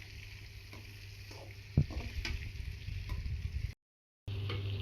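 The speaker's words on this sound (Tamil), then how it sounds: "இப்போ தக்காளி ஆட் பண்ணிக்கலாம். நல்லா வதக்கி விடணும்." Tomatoes sauté in a pan after softened onions for tomato rice, with a steady low sizzle, scattered stirring clicks and scrapes, and a brief dropout near the end before the sizzle resumes.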